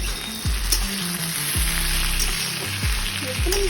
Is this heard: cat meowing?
no